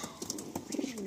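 Madrasi and lakka pigeons cooing inside a loft, a few soft low coos rising and falling over faint background chatter, fairly close.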